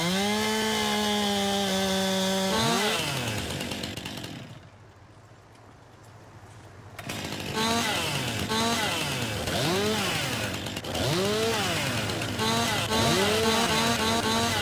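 Chainsaw in Farming Simulator 19 felling a tree, a steady loud engine whine that dips into near silence midway, then returns with repeated rising and falling revs as the cut continues.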